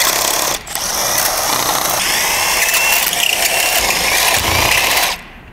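Mechanical ratcheting and grinding from a failed DSG transmission as its case is split open, a steady, close, continuous metallic clatter that cuts off sharply near the end.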